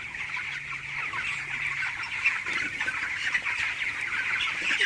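Chickens cluck steadily in a dense flock, a continuous busy chatter of many birds close by with no talking.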